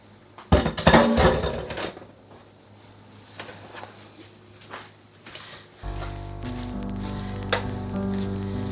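Kale is stirred into simmering gnocchi in a pot, opening with a burst of metal-on-pot clatter and scraping, then settling into a steady low bubbling hum of the simmer with a few light knocks.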